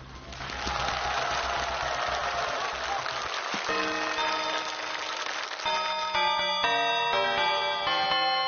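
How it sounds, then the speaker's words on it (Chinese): Studio audience on a Chinese TV game show breaks into sustained, dense applause that fills the whole stretch, with bright musical tones layered over it toward the end. "我们给大王一点掌声"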